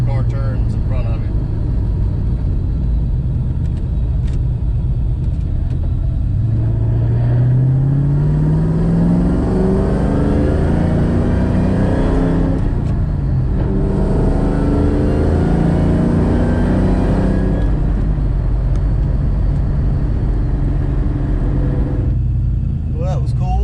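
A 2003 Ford Mustang Mach 1 drives steadily, its engine droning loud and close with rising pitch as it accelerates through gears, under a person's continuous talking.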